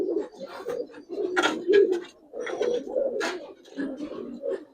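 Giribaz pigeons coo up close in repeated low, throaty bursts, with brief pauses between phrases and faint higher chirps and flutters mixed in.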